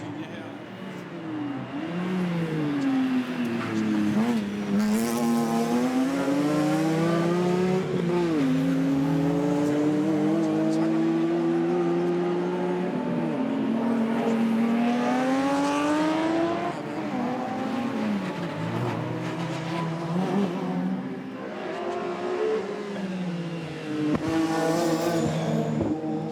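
Classic race cars competing in a heat at Aarhus in 2016: engines rev and shift in long rising and falling howls, loud and continuous as cars pass, with a commentator talking throughout.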